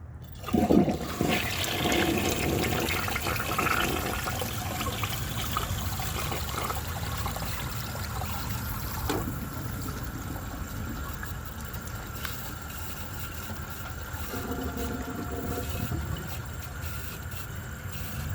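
A 1988 Artesian Atlantis lowboy toilet flushes in one long continuous rush of water, loud and close, with gurgling and trickling as the bowl refills over about eighteen seconds.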